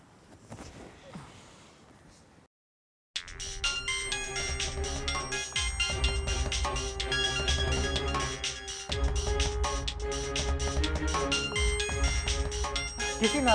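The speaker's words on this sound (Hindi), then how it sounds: "किसका फ़ोन है?" Mobile phone ringtone in a short drama scene: after a brief quiet stretch a loud, musical ringtone melody starts and keeps playing steadily, close and continuous.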